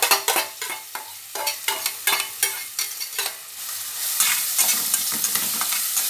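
Chopped onion and garlic sizzling in hot oil in a pot, stirred with repeated scraping strokes in a quick, uneven rhythm over a steady, close frying hiss.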